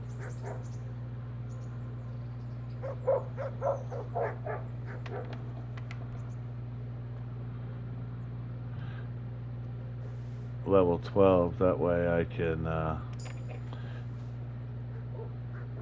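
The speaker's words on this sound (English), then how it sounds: "have these dogs not bark at me." Dogs in the medieval video game Kingdom Come: Deliverance bark in a quick cluster of loud yaps late on, over a constant low game hum. Someone talks earlier.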